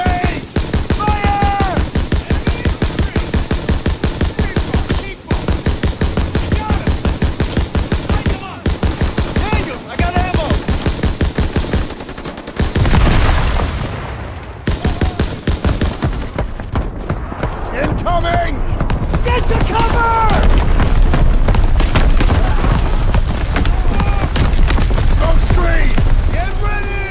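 Dense Call of Duty WW2 gunfight in the Death Factory mission: sustained rapid automatic fire with heavy booming shots, loud and continuous, with shouted voices over the shooting.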